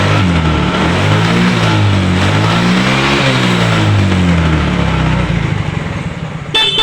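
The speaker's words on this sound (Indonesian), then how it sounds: "Alhamdulillah untuk motornya sudah hidup." A small Mio Soul GT scooter engine that lacks power runs loud and close, its revs swelling up and down in waves before it settles and briefly cuts at the end.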